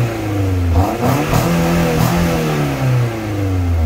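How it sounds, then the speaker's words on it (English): A high-mileage Mk2 Toyota MR2 with its stock exhaust refitted revs up from idle in several rising and falling pulls, the engine note loud and close with a smooth, moderate tone. "here's what the stock system sounds like now that the stock exhaust has been fitted again"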